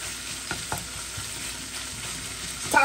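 Taco meat sizzles steadily in a hot pan, with a few soft scraping stirs and a louder clatter near the end.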